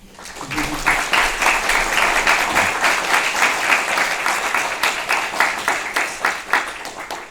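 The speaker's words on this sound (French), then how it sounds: "on peut déjà applaudir Monsieur Demont." An audience at an archaeology book presentation applauds steadily, a dense wash of many hands clapping that builds after a short start and carries on at even strength.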